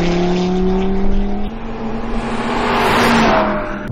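A 2016 Audi TT RS Coupe accelerates hard on a race track, its engine note climbing loud and close through the gears with a brief dip at a shift, then rising again.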